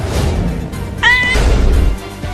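Close and fairly loud, a cat gives a single short meow over a busy, noisy indoor background.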